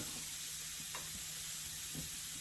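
Zucchini slices laid on a hot grill give a soft, steady sizzle with faint crackles and a couple of light clicks, fairly quiet and without talk.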